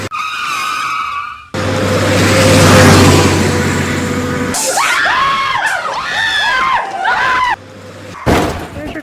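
A car goes out of control with a long loud tire skid, followed by repeated squeals and swerving screeches, close and intense with brief gaps.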